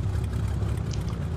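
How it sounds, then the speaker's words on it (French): Aircraft engines winding down after landing on a flight from Ouagadougou to Bobo Dioulasso, a loud, steady low rumble with a broad whooshing hiss, heard close from inside the cabin. "vraiment arrêt des moteurs"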